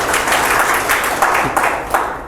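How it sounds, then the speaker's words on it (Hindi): An audience at a coaching institute event claps in a short, lively burst of applause, with individual claps audible in the wash of sound, fairly close and loud. "एक बार जोरदार तालियां।"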